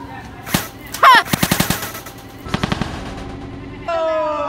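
Rapid gunfire bursts from a shooting video game, loud machine-gun-style volleys and single shots in quick succession, with brief electronic game effects between bursts and no talk.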